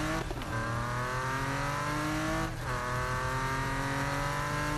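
A racing car engine in Need For Speed 2015 roars steadily and close, its pitch climbing through gear shifts with brief dips and a faint tire squeal.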